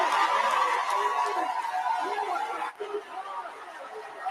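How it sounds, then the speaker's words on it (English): A political rally crowd in Lincoln, Nebraska roars and cheers continuously, a dense wash of many voices that dips briefly near the end. "Listen to that crowd"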